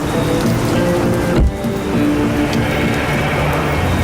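Heavy rain pours down during a storm that has flooded roads and brought down trees, a dense, steady roar filling the whole stretch with a brief thump partway through.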